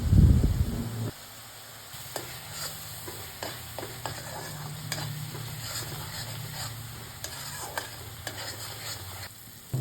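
Onion-garlic paste being stirred in a pan with turmeric, salt and Kashmiri chilli powder for a fish dish, giving a steady low sizzle with scattered scraping stir clicks after a louder opening burst.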